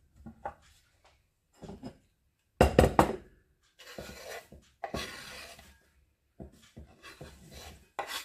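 Crunchy salad vegetables, including thin leaves, are sliced with a knife on a board in short, close bursts of crisp cutting separated by brief pauses, with one louder chopping flurry.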